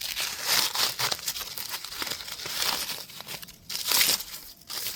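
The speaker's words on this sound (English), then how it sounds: "cut off some of these dry leaves" Dry mulberry tree leaves are stripped from branches by hand, giving close, dense crinkling and tearing rustles in repeated bursts, loudest around the start and again near the end.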